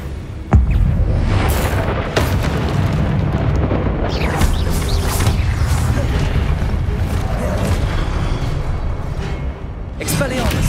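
Magic combat in Hogwarts Legacy: a disarming spell and other spell effects burst and boom in loud, dense succession. A rumbling, explosive wash runs throughout with sharp hits near the start and end.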